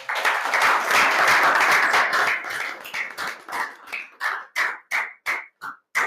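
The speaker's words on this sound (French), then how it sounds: "je vous dis de lui dire au revoir avec un tonnerre d'applaudissements" Dense applause at a business club launch fills the first seconds, then thins into fewer, slower individual claps that come in separate, distinct bursts near the end.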